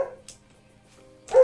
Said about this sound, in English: I'm about to go beat up my dog. She keeps barking.